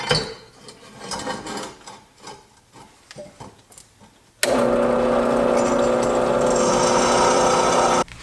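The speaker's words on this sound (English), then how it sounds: "Well, I gotta drill the holes first." A power drill bores mounting holes for a transmission mount on a turbo LS Mustang: scattered clatter and handling noises first, then a loud, steady drilling whir that runs unbroken for several seconds before stopping.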